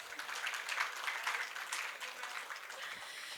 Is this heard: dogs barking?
no